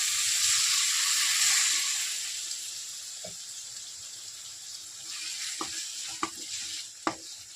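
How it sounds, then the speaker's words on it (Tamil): A pan of dried anchovy curry bubbles and simmers with a steady hiss, broken by a few sharp clinks of a spoon near the end. "நல்லா கொதிக்குது."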